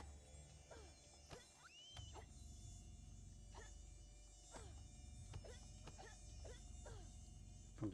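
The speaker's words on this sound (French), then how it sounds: "Ils font des drôles de bruit ces insectes." Insects buzz in the video game Fable Anniversary, a continuous whining drone like mosquitoes and flies, with repeated swooping buzzes passing close. Nobody speaks.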